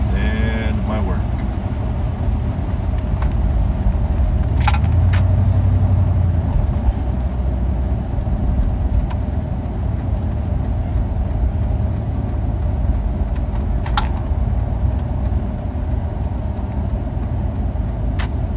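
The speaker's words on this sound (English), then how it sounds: "Quiet drive into Potsdam." Car driving on a quiet road into Potsdam, a steady low engine and tire rumble heard from inside, continuous throughout with someone talking occasionally over it.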